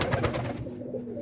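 A pigeon cooing close by in a loft, a soft rounded call in the first half that fades into low steady background noise.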